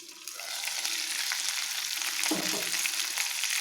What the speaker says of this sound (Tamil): இங்கே நம்ம ஸ்லோ ஃப்ளேமில் வச்சு தாங்க வேக வச்சுட்ருக்கோம்.